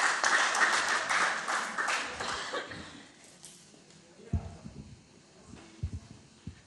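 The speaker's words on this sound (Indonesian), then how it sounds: "mari kita tepuk tangan buat Kak Elia." Audience applause at a church youth service, a burst of clapping that fades over a few seconds, followed by quieter room sounds and scattered thumps.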